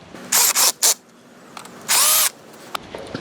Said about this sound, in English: when I tighten down these studs, I'm going to turn the torque on my screw gun down pretty low just to start out with